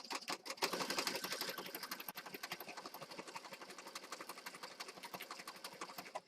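Sewing machine stitching with a regular needle and black thread, a fast, even mechanical chatter running continuously and fairly quiet, slightly louder at the start.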